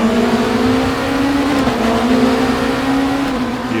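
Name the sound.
race cars launching, RaceRoom video game, BMW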